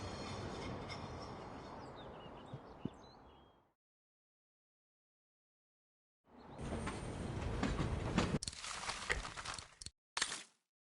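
Tram from Syberia: The World Before rolling along rails, a steady rumble with rail clatter and squeals that cuts to silence, then resumes louder with sharp bursts near the end.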